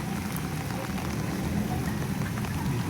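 Heavy monsoon rain falls steadily and thickly, a dense, continuous wash of drops drumming on surfaces, with a low rumble beneath and no voices.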